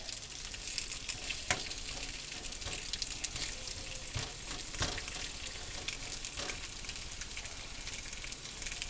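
Sweet potatoes frying in a pan over medium-high heat, a steady close sizzle and crackle with occasional scraping and stirring taps from turning them over, no talking.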